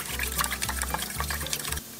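Mixed seasoning sauce of sugar and liquid pours into a frying pan holding lotus root and sweet potato, a brief splashing, bubbling liquid sound that stops abruptly near the end.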